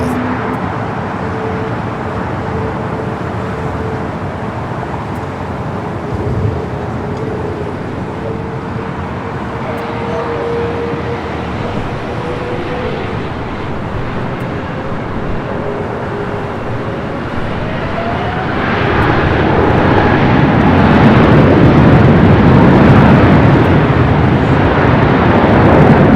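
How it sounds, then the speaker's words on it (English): An Airbus A350 taking off at LAX, its steady distant jet roar building into a louder, broader rumble in the last several seconds as it climbs away. "We're going to stay with the A350. That thing shot up like a rocket here in the south."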